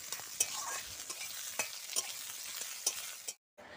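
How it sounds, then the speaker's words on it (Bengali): Ridge gourd stir-fried in mustard oil in a wok gives a continuous hiss with repeated sharp scrapes and taps of the spatula, then a sudden brief silence near the end. "তো সর্ষের তেল দিয়ে প্রথমেই আমি ঝিঙেগুলো কড়াতে দিয়ে দিলাম"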